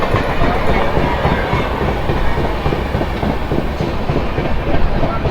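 The Janmabhoomi Superfast Express, number 12806 from Lingampalli to Visakhapatnam, runs on rails near Annavaram station, heard from aboard as a loud, continuous rumble with rhythmic clickety-clack of wheels over rail joints.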